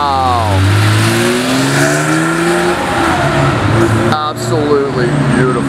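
A Porsche Carrera GT's V10 screams at full throttle nearby, rising and falling revs with sharp pitch sweeps, loud and raw, with voices reacting over it.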